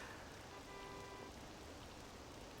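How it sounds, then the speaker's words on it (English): Steady, soft rain in the video game Persona 5 Royal patters continuously with an even hiss, quiet and unbroken, with no voices. "On to Sunday, and it's raining."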